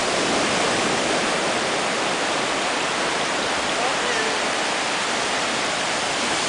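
Water rushes in a loud, continuous broadband flow, steady throughout without pause.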